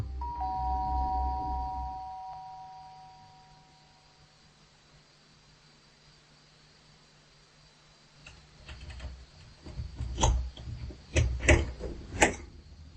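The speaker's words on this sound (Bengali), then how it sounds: "এসব ভাবতে ভাবতেই কলিং বেল বেজে উঠল।" A doorbell chimes in a Bengali audio drama, a clear ding-dong tone ringing out and fading over a couple of seconds, followed by quiet and then soft tapping and clattering sounds.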